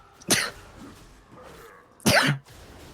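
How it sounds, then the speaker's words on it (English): Two sharp bursts a second and a half apart, the second louder and fuller, like a sneeze or stifled sneeze, close by with quiet between. "there's that sneeze I had in Champ Select that didn't come out"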